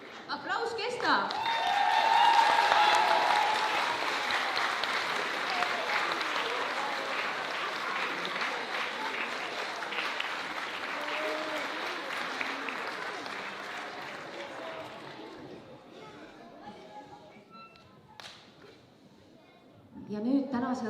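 Sustained clapping and cheering from a school audience at a playback lip-sync show in Estonia swells early, then fades gradually over many seconds with some laughter, before a voice speaks near the end.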